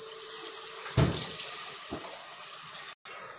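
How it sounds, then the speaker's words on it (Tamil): Water is poured into a pot of murungai keerai sambar during cooking, splashing and running steadily, with a soft thud near the start and a quieter splash later. "இதில் கொஞ்சமாக தண்ணி ஆட் பண்ணிக்கோங்க."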